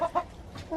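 Flock chickens cluck in a dirt-floored winter run with bedding. Two or three short, close clucks come in quick succession.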